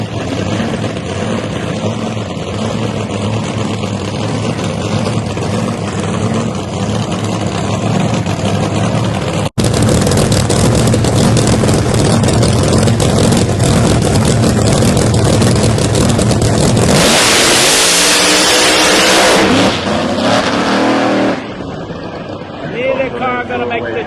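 A ProMod drag racing car at a motorsports park qualifying session roars loudly and steadily, then surges into a sharper, higher rev before the noise drops away, under a track announcer's talk.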